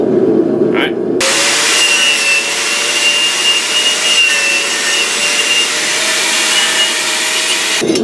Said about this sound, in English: I'm going to clean it all off with the wire brush